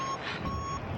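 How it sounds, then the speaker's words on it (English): A hang gliding variometer beeps in flight over Switzerland, a thin electronic tone sounding against steady wind rush. "we're starting to get a beep on the vario."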